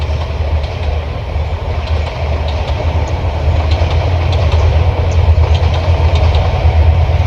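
A train rolls slowly past rural fields, its loud low rumble and rhythmic clickety-clack of wheels over rail joints growing slightly louder and continuing steadily without any voices.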